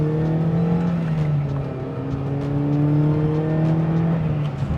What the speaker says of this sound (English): So now we're at 50, hard brake.